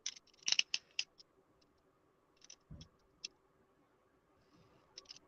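Scissors snipping through material, a quick cluster of sharp close snips followed by a few isolated clicks and cuts, quiet and alone without talk.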